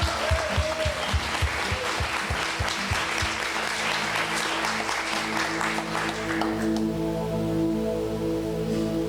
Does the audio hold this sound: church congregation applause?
yes